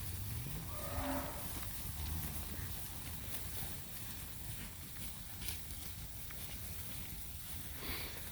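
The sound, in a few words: cattle mooing while grazing on clover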